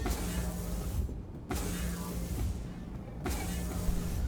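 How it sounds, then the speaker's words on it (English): Star Citizen airlock on a MISC Freelancer ship sliding shut with a sustained electric motor whir, with two short mechanical clunks breaking the steady hum at close range. "Here's how you close the airlock."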